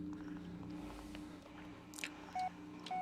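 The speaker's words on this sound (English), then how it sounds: "My phone message just bleeped." In the PC horror game Blair Witch, a radio gives short electronic message bleeps, two clear tones late on, heard over a low ambient game hum with no talking.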